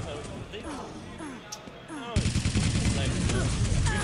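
Machine gun fire in a Quake Live team deathmatch, with rapid bursts of shots and in-game effects layered under ongoing commentary, then a louder stretch of dense gunfire and explosions.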